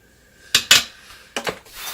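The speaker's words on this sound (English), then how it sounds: "Stir it around a little bit." A spoon knocks and scrapes against a pot while nutmeg is stirred into cranberry compote, giving two sharp clinks, a short pause, then two more.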